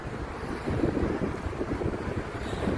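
A cool sea breeze blows along the shore in Doha, Qatar, at night, with soft wind rumble and gentle waves washing steadily in the background.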